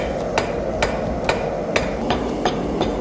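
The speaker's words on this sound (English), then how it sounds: "I'm gonna hammer from the end up top here" A hammer strikes hot steel being forged into a centre punch in a steady series of sharp, evenly spaced blows, about eight in three seconds, over a constant roaring forge background.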